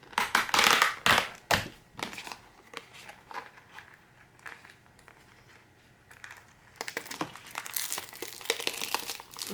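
Plastic wrapping is crinkled and crushed on a planner, with loud close crackling bursts at the start, quieter scattered rustles in the middle, then renewed busy crinkling toward the end.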